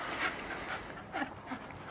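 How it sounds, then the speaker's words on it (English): A neighbour's dog panting rapidly at close range, quick rhythmic breaths with a faint whimper, heard during a home workout. "I think it's the neighbor's dog"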